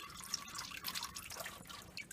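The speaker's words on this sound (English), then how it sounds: "I'm just unscrewing the oil filter, and as you can see, it's dripping down the paper, my oil pan" Motor oil drips from a loosened oil filter on a 2015 Nissan Murano into a paper-lined drain pan, making soft irregular patters and trickles close by, with no talking.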